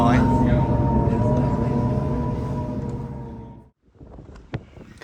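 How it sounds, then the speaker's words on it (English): Strong gusting wind on a sandy beach where the North Sea meets the Baltic at Skagen, Denmark, roars and buffets the microphone loudly before cutting off abruptly, followed by quieter scattered knocks and rustles. "this is where the sound gets very difficult indeed. There's sand flying around and the wind is gusting"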